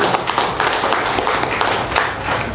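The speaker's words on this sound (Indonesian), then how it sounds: "Beri tepukan kepada Tuhan Yesus." Steady clapping from a church congregation, dense and continuous, with a faint voice rising in the background.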